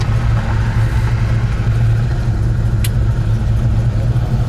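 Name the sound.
1970 Plymouth Road Runner V8 engine idling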